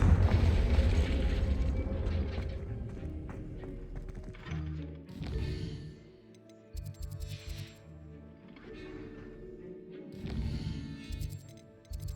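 A Confringo spell explosion in the video game Hogwarts Legacy: a deep booming blast up front, followed by rumbling game effects, thuds and clanking mechanisms, with no talking.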